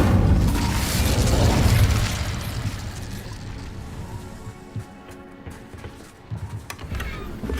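Incendio fire spell cast in the wizarding action game Hogwarts Legacy, a loud burst of roaring flame and booming that fades over several seconds into quieter rumbling and clicks.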